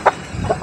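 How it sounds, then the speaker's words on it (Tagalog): Chickens scuffle close by, giving short, loud clucks in quick separate bursts, with no one talking over them. "Away ng manok."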